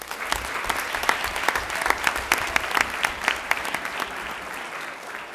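An audience at a Board of Education meeting claps steadily through a dense, continuous round of applause, with sharp individual claps standing out across the whole stretch.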